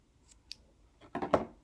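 Scissors snip through yarn while finishing a piece of two-strand finger knitting, a couple of faint clicks followed by two louder, close crunching cuts near the end, with no talking.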